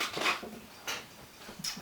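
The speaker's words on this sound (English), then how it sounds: "I thought my parents were at the door, but I think it's my dog." A miniature schnauzer close by gives soft whimpers and breathy huffs in short bursts, with quiet gaps between them.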